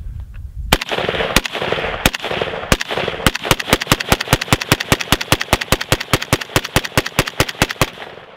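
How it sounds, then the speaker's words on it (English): Rifle with a 3X illuminated optic firing a long run of rounds downrange in wet, all-weather range conditions: a few spaced shots, then a fast, steady string of about thirty sharp, loud cracks over a constant noisy background. "All right, I'm going to shoot down the range."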